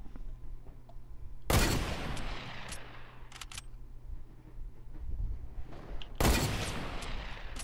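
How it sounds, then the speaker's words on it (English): Fortnite gunfire in a match: two loud sharp bursts of shots roughly five seconds apart, with a few fainter pops and low game ambience between them and no talk. "He trying to shoot you."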